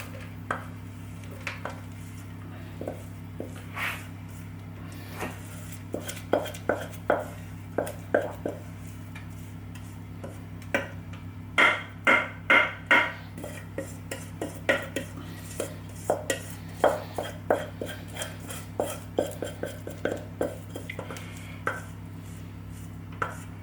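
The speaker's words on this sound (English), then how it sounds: "it sticks to the pan and it sticks to the spoon. So another spoon to scrape it off." Spoons scrape and tap sticky vegan flapjack mixture into a baking tray, a scattered run of close clinks and scrapes with quiet gaps between, steady background hum underneath.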